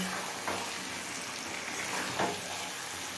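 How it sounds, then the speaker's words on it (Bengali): Chicken kosha sautés in its own separating oil over a low-medium flame. A soft, steady sizzle carries a couple of faint stirring scrapes. "চিকেনটা আমি পনেরো মিনিট লো মিডিয়াম ফ্লেমে কষিয়ে নিয়েছি আর দেখুন চিকেন থেকে তেল সেপারেট হতে শুরু করেছে"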